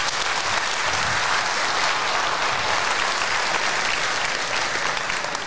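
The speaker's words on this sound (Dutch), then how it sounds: "Graag een groot applaus voor Patrick Govaerts." A hall full of people at a charity benefit evening in Zutphen claps steadily for the football club chairman, a dense, even applause lasting several seconds without a break.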